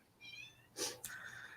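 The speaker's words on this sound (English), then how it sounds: "I heard the cat and I immediately went, Kitty!" A single cat meow, a short harmonic cry from a little distance, followed by faint rustling sounds.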